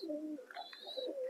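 Pigeons in a home pigeon loft giving soft, close cooing and warbling calls in short phrases, with no talking over them.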